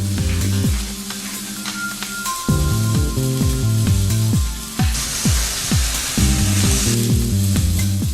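Pork fillet sizzling loudly in a Kuhn Rikon Durotherm pan, a dense continuous hiss and spatter that stays close and even through the whole stretch.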